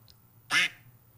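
A man imitates a duck with his voice, giving one short, loud, nasal quack close to the mic in an otherwise quiet room.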